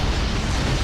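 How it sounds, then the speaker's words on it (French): Explosion in a Spider-Man video game, a loud, dense low-heavy blast rumbling steadily through the whole short moment with no gaps. "Explosion."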